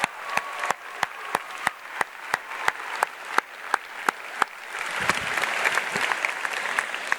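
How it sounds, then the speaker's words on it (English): At a Goffstown High School graduation ceremony, steady evenly spaced single claps ring out before the wider audience joins in, building into dense continuous applause. "Huge round of applause."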